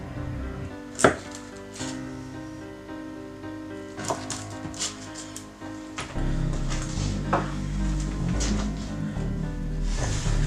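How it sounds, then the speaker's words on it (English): A knife cuts an almond and cherry frangipane bakewell into portions, with scattered soft taps and thuds against a board at irregular intervals, close up, over faint low kitchen background noise. "get a knife, and we're going to cut them into portions"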